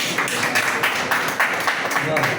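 Steady applause from a seated audience at a ceremony where the chief guest recites his poetry: dense, continuous clapping with voices mixed in throughout.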